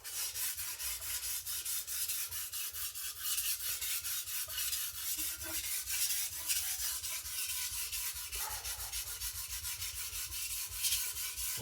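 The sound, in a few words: sharpening a gyuto chef knife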